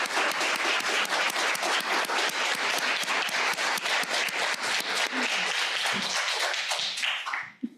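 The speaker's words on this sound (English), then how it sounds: "Let's give them a round of applause." Sustained audience applause after a talk on constitutional arguments for transgender rights, dense steady clapping from a crowd that fades out near the end.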